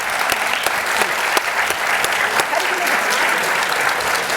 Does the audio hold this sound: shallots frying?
no